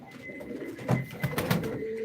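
A few low throaty coos from a female pigeon at a live auction, close and fairly clear, spaced out over a couple of seconds with little else around them.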